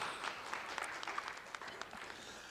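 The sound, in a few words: families applauding at a school pageant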